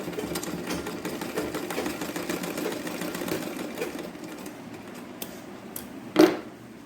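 A sewing machine runs steadily while stitching a Pattu Pavadai, a quiet continuous whirring with fast rhythmic needle ticks that pauses, followed by a brief sharp click near the end.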